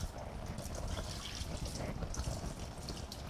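Tap water runs steadily in a kitchen while a utensil is rinsed before making an avocado salad dressing, a continuous close splashing trickle with faint voices underneath.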